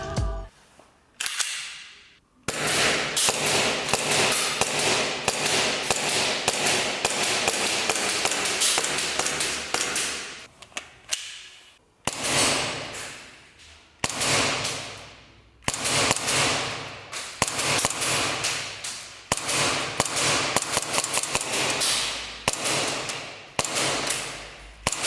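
Gladius 17 CO2 airsoft Glock-style pistol firing in rapid strings of sharp snapping shots, with short pauses between bursts and a few isolated single shots, close and loud.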